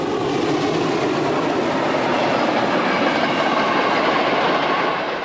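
A DB class 038 steam locomotive, number 038-772, rolls past close by with a loud, sustained roar and rhythmic rail clatter that fades slightly at the end.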